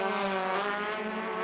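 Formula Ford race car engines roar steadily at high pitch as cars pass close by the pit wall at Winton, a continuous loud buzzing drone with no voices.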